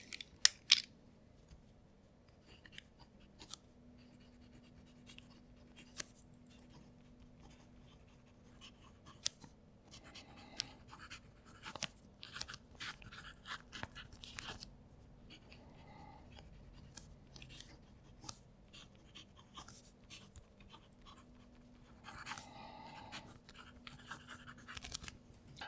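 Quiet scratching of a TWSBI Eco fountain pen with a broad nib moving across paper, soft intermittent strokes with faint ticks and pauses, close and low in level, no voices.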